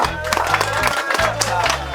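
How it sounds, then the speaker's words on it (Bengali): Audience clapping and cheering at a live stage show in honour of Munna bhai, a dense steady wash of applause heard alongside loud music with a bass beat throughout. "মুন্না ভাইয়ের জন্য হাততালি হোক একটা"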